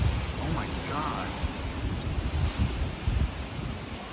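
Category 4 Hurricane Ian winds in Port Charlotte, Florida, a continuous loud roar and rumble of gusting air buffeting the microphone.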